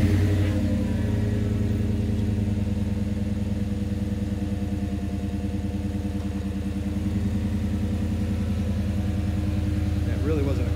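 A Chevrolet Silverado with a single-outlet exhaust idling close by, a steady low rumbling engine drone holding evenly for about ten seconds, with a faint rise near the end.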